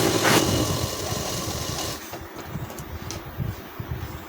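Sewing machine stitching a round seam on an elastic trouser, a loud rapid motor whir for the first two seconds, then stopping into quieter handling noise with faint clicks.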